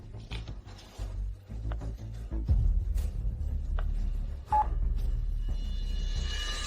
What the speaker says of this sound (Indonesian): Sudah, mending aku telepon saja langsung.